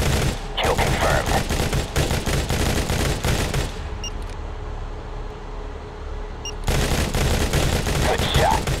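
Rapid gunfire bursts from the mobile shooter Modern Combat 3: Fallen Nation, loud and dense for several seconds, a short lull with a low drone, then another heavy burst of shots.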